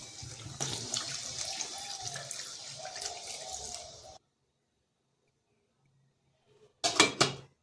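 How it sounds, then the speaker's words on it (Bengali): Water runs steadily for about four seconds into a pan of jackfruit kofta curry with fried potatoes, then stops; after a silence, a brief clatter of a pan or utensil follows. "এবার পরিমাণ মতো জল"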